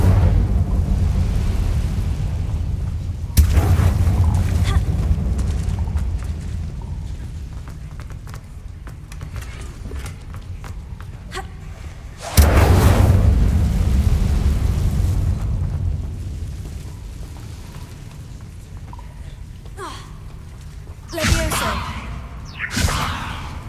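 Incendio fire spell in Hogwarts Legacy: a loud whooshing fiery blast sits under a roaring rumble, and two more sharp bursts follow later.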